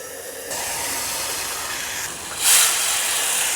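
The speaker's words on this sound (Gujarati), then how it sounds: "હવે જે આપણે મસાલો તૈયાર કરેલો છે ને એમાં થોડું પાણી ઉમેરશું અને બધું જ સરસ મિક્સ કરી અને કઢાઈમાં ઉમેરી દઈશું" Spice paste mixed with water hits hot oil in a wok for a spiny gourd dish, setting off a sharp hiss that grows into a brief louder burst and then settles into a steady sizzle, with no talking.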